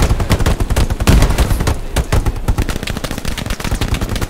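Machine gun fire in the video game Hell Let Loose, loud and close, with rapid continuous bursts of shots rattling almost without pause, overlapping volleys from several guns during a large battle.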